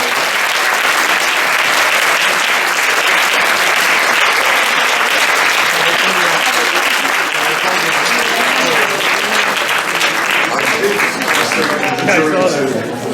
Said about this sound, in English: please give them a round of applause as they go out